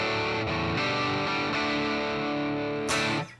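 A distorted electric guitar riff played through an amp with a 1x12 cabinet and no reverb: sustained, thick chords change a few times, then a bright strummed burst comes near the end before the sound cuts off.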